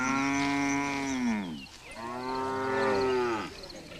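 Maasai cattle in Tanzania's Serengeti give two long, loud, close moos, the first lasting about a second and a half, the second following after a short gap.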